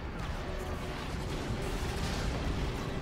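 Battle in Star Wars: Battlefront II (2005) on Kashyyyk, a dense continuous roar of blaster fire and explosions with heavy low rumble, loud and unbroken throughout.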